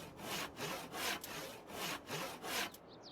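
A chainsaw mod in Farming Simulator 22 on Xbox cuts through wood, heard as a rhythmic back-and-forth sawing rasp of about six even strokes with brief dips between them, closing with a short pause.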